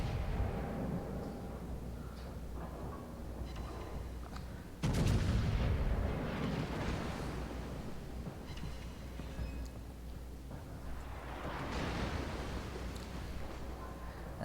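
Main battery guns of the battleship Montana fire in World of Warships against enemy cruisers. A sudden heavy blast lands about five seconds in, then rolling booms and rumble continue over a dense, loud battle background.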